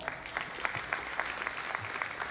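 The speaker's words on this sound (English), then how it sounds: "a warm round of applause" Audience applause at a NASA lunar challenge awards ceremony, a soft, steady patter of clapping that sounds somewhat distant and thin, continuing without talk.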